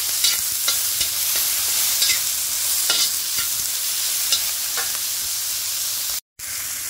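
Chicken meat sizzles steadily in a frying pan with vegetables while a utensil stirs it, scraping and clicking at irregular intervals over the constant frying hiss, close and fairly loud, with no talk.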